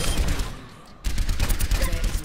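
Rapid gunfire at robot targets in the hero shooter Overwatch, a dense stream of shots that pauses briefly near the middle and then resumes, loud and close.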